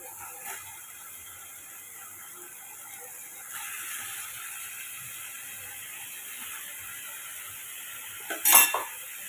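Half a kilo of cleaned chicken going into a pan for a pepper roast: a low, steady hiss runs throughout, then a single brief metallic clatter near the end. No voices are heard.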